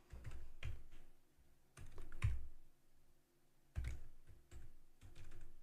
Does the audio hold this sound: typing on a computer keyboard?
yes